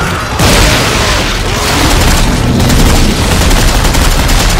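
Dense, loud shotgun blasts in the sci-fi horror co-op game Dead Space 3, a rapid barrage of booming shots with explosive bursts layered over one another, filling the whole clip with continuous gunfire and no talk.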